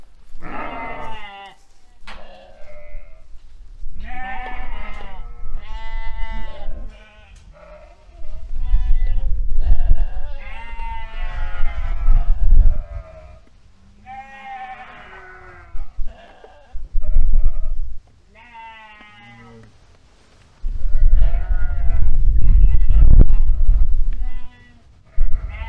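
Sheep and lambs bleat loudly and repeatedly at close range on a village farm, in overlapping calls with short pauses between them.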